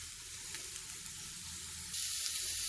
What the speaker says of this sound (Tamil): சிக்கனை சேர்த்துட்டு நல்லா வதக்கி விடுங்க.